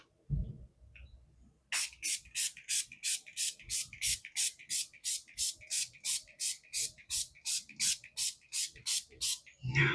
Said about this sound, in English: So for setting spray, going to use this Revolution Fix and Glow fixing spray.